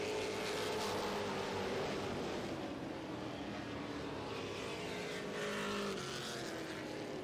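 A pack of NASCAR weekly series race cars roars continuously around the Autodrome Granby oval, engines droning loud and dense with rising and falling tones as cars pass.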